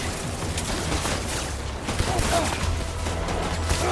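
Gunfire in the Death Stranding video game comes as scattered bursts of shots and booms over a dense, noisy game soundscape, with a voice talking in between.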